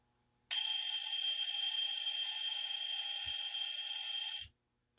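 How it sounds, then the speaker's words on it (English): A GE/Telechron alarm clock's bell and buzz sound, a loud, continuous metallic ringing buzz for about four seconds, then stopping abruptly, with a couple of faint low thumps near the end. "we're going to hear the sound that the alarm will make on this clock"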